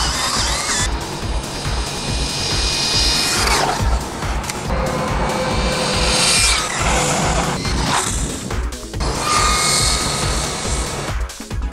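An ARRMA Vorteks BLX radio-controlled car drives fast outdoors with a loud, high-pitched electric motor whine that surges and fades across repeated passes, mixed with tire scrubbing and gravelly crunching.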